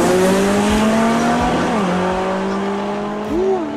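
A Camaro and a big VW drag bus launch down a drag strip, engines screaming loud and close with rising revs and a sharp tire chirp near the end, a brief voice underneath.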